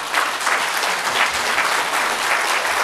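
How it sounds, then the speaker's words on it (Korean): A church congregation gives a sustained round of thankful applause for a guest speaker, dense even clapping filling the hall without pause. "우리 나오실 때 한번 감사의 박수 드려주시기를."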